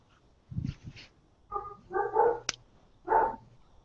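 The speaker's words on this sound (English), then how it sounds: "Can hear my dog." A dog barks in short, muffled bursts from somewhat off at a distance, a few separate yips and woofs spaced over several seconds in a quiet room at night.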